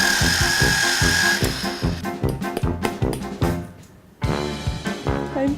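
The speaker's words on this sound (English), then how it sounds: "I'm just gonna sharpen this dowel." A power tool whirs against a wooden cake dowel as it is sharpened, a close buzzing motor with rapid rhythmic grinding pulses that briefly cuts out before starting again.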